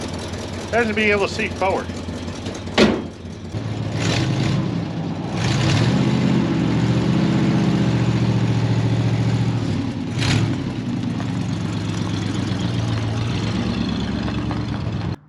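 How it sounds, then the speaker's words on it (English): An International 4x4 truck idles with a steady low engine rumble, close by, a few knocks and clunks scattered through, while someone talks early on. "It's idling on its own, and has been for a while."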